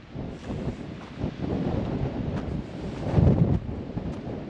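Outdoors beside a rock house, wind buffets the microphone with a continuous low rumble and gusty roar that swells and eases, strongest toward the end.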